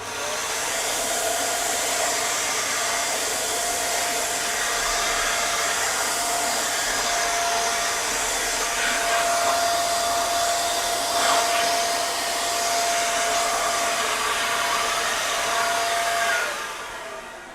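A Xiaomi Youpin Deerma DX800s stick vacuum cleaner runs alone with a steady, loud, high-pitched motor whine and airflow hiss that holds constant and then cuts off near the end.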